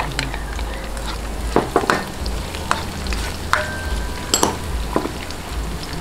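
Onions sizzle in hot oil in a pan, with a steady crackling fry and a few sharp clinks and scrapes of a utensil against the pan.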